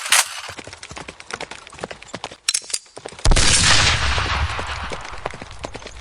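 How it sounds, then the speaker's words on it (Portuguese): A sharp rifle shot cracks out amid busy clattering and hoofbeat-like knocks, followed by a loud, sustained roar that slowly fades. "Mas o rifle de Tex entra em ação."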